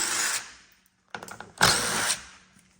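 A power drill fitted with a 10mm socket backs out oil shield bolts on a 2018 Kia Optima GDI: two short whirring bursts separated by a brief pause, loud and close, with no speech.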